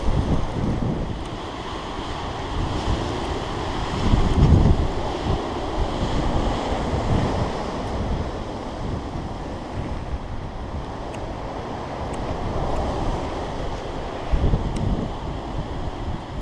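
High winter winds in Linville Gorge roar steadily and loudly into the microphone, a dense rumbling rush with gusts swelling and easing throughout.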